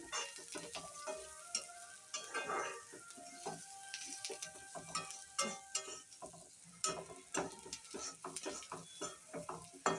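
A spoon stirs a drumstick leaf stir-fry in a pan with salt just added, making close, irregular scraping and clinking over a continuous soft sizzle of frying.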